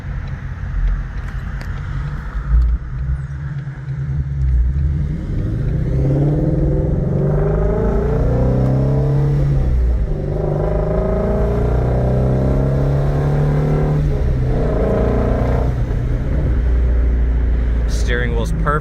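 Someone talks while the deep exhaust rumble of a stock 2019 Ford Mustang Shelby GT350 drones steadily underneath, with the engine swelling slightly at times.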